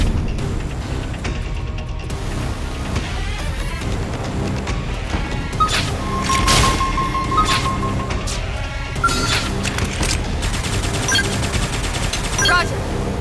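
Rapid gunfire rattles through a Xenoblade Chronicles X: Definitive Edition battle, loud and continuous volleys layered with metallic clinks, crashes and game effects, with battle voices calling out at points.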